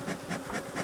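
Bees buzz close around a beekeeper's hand, a dense, continuous drone that swells and dips in a steady pulsing rhythm.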